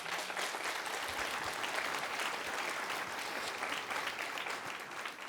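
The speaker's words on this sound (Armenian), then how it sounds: "Խնդրում եմ ծափահարություններ։" Steady studio audience applause on a quiz show set, sustained dense clapping at an even level throughout with no talk over it.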